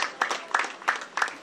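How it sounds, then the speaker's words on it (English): A round of applause for a government commissioner at a ceremony for a traditional ruler, heard as steady, rhythmic clapping with evenly spaced beats and no talking. "Please a round of applause for him, please."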